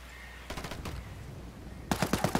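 Gunfire in the Ghost Recon Wildlands video game: a short burst of rapid shots, a lone crack, then another fast automatic burst, fairly loud against a low steady background.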